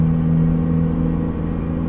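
A Mack R truck with a Cummins NTC Big Cam engine in American Truck Simulator drones steadily in top gear, a loud, even low rumble held without change and no voices over it.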